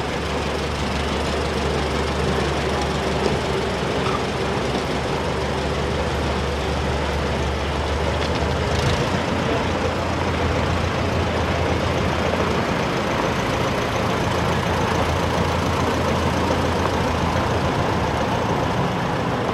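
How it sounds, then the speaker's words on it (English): A restored 22-horsepower tractor engine idles in a steady, loud, continuous rumble with a low, even throb, running alone without talk for the whole stretch. "Nice tractor, Dave."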